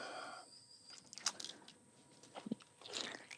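A few soft, wet bites into a juicy pineapple slice sound in a garden, with faint crunches spaced apart against a quiet background.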